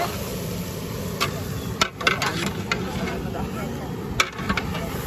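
Mutton being stirred and sautéed hard with a wooden stick in a large pot outdoors, a steady sizzling rumble broken by a few scraping knocks, with voices talking faintly underneath.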